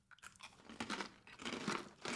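Someone bites into and chews Umlands crunchy cheese, producing close, dry crunching bursts that repeat quietly.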